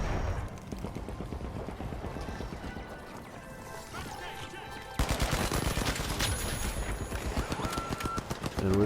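In The Finals, an automated turret fires rapid bursts of gunfire over a busy match, loud and steady, with the shots growing denser and sharper partway through among other game effects.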